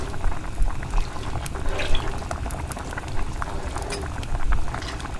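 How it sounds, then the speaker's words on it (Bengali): Thai soup simmers in a pot as sauce is stirred in, giving a close, continuous bubbling and liquid churning with occasional light clinks and swishes, no voices. "এবার ভালোভাবে নেড়ে দেব যেন সসটা ভালোভাবে মিশে যায় স্যুপের সাথে।"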